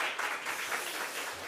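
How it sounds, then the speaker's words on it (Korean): Church congregation applauding during a Sunday worship service, a soft, steady wash of hand claps from a distance, filling the short moment evenly with no voices over it. "박수 한번 할까요?"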